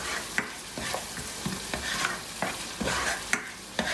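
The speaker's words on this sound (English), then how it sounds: "Now let me saute all these powdered masalas into this puree." Powdered masalas sautéed into a puree in a pan, with soft sizzling under repeated scraping strokes of a spoon, several sharp clacks against the pan spaced through the clip, close up and with no talking.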